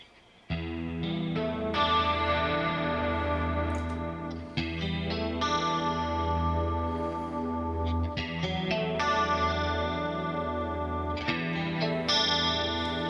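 An electric guitar plays sustained chords and notes through chorus and distortion effects while pickup positions are switched. The tones ring out full and loud after a short quiet start, changing character every few seconds.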